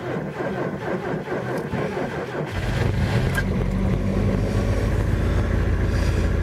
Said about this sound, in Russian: пуск двигателя минус 18 на Лукойле синтетика